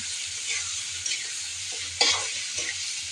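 Fish sizzles in a spice paste in a hot pan as it is stirred, with a steady frying hiss broken by a few scraping stir strokes; no one speaks.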